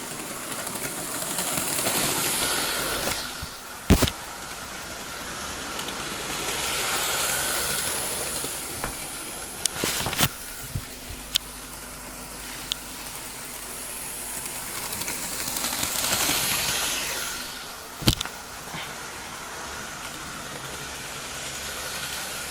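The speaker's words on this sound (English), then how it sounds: "He's running beautifully. Really, really smooth. You can hardly hear the motor." A Hornby Edward model steam locomotive runs along its track with a steady, soft whirring hiss, broken by a few sharp clicks and ticks from the rails. No one speaks.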